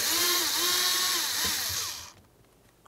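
A power driver whirs in short rising and falling bursts as it backs two screws out of the latch side of a door latch. The whine cuts off and leaves near silence.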